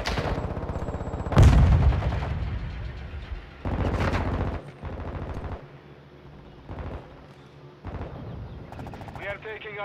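Gunfire in Call of Duty: Modern Warfare II: several loud bursts and single shots at irregular intervals, one heavy blast near the start, with quieter game noise between them.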